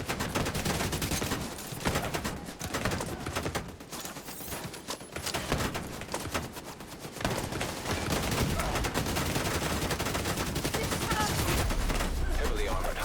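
Turret gunfire in a video game, sustained dense bursts of shots over a busy battle mix, steady and loud throughout with a brief lull midway.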